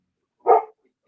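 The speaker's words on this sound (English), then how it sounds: "My dog's barking" A single short dog bark indoors at home, clear and fairly close, with silence before and after.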